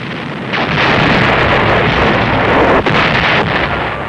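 Artillery barrage explosions from a wartime intro for a DOS war game about the German offensive of December 16th: a dense, continuous roar of rumbling blasts and booms, loud and unbroken, with no voices.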